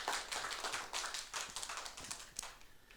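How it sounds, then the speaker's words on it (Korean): Lecture audience at a book-launch talk clapping warmly, a dense patter of many hands held at an even level for a few seconds. "뜨거운 박수를 좀 부탁드리겠습니다."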